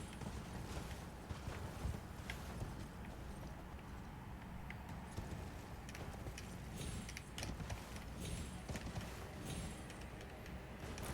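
Horse hooves clip-clop steadily in the Elden Ring video game, a continuous rhythmic trot over a dense layer of game ambience, with no talking.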